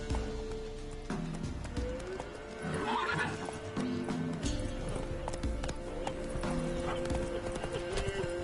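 Roach the horse from The Witcher 3 gallops with steady clip-clop hoofbeats and gives a whinny partway through, continuing under ambient game sounds.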